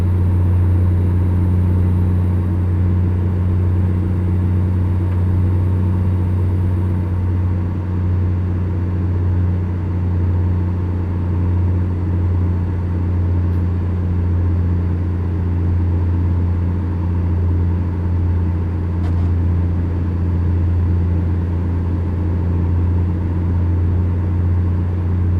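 An American truck engine drones steadily while driving in American Truck Simulator, a loud, constant low hum with no pauses or gear changes and no voices.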